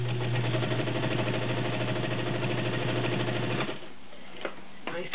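A Kenmore model 1204 zigzag sewing machine runs with a steady, fast mechanical whir and needle chatter, close and fairly quiet, then stops abruptly near the end, leaving faint clicks.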